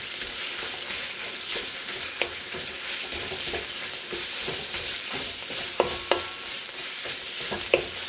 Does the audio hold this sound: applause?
no